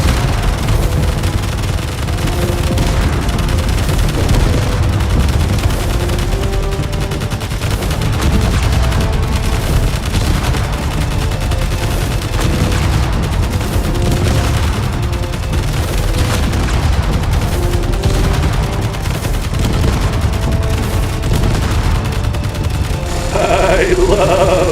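Loud, continuous gunfire from a weapon in the game Space Engineers, dense booming shots running steadily throughout with no clear gaps, layered over constant background noise and game sounds.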